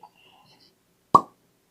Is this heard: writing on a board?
no